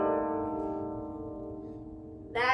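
A koto played with the wallen technique, picks sweeping down across the strings, leaves a ringing, slowly fading cluster of tones before a fresh bright pluck lands near the end.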